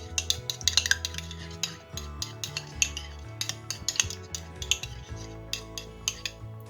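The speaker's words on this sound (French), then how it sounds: "Je vais battre légèrement et je vais rajouter ça sur... on bat légèrement à la cuillère" Metal spoon beating an egg lightly in a bowl for orange cream chocolate-chip brioche dough, a quick run of bright clinks and scrapes close up, with a low steady hum underneath and no talk.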